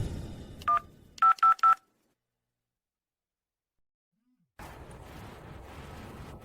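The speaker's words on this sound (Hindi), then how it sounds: "उसका फोन बज रहा है, सचमुच बज रहा है।" A telephone call is placed: a few short dialing tones sound close and clear, then silence before a steady ringback hum continues on the line.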